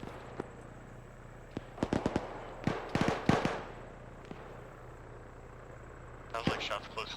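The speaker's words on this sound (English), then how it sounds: "Sounds like shots close to the west." Gunshots ring out nearby in the military shooter Arma 3, a scattered series of sharp cracks in irregular bursts, some doubled and clustered together, over a quiet hum with a final flurry near the end.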